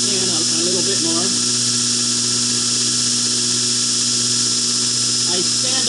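A belt grinder shapes a knife blade with a constant high whine and a steady hum, heard close up while someone talks over it.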